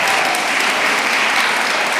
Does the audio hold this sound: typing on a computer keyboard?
no